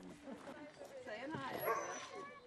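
Sled dogs at a demonstration training area in Alaska give faint, distant yips, whimpers and short barks in a loose, excited run of calls.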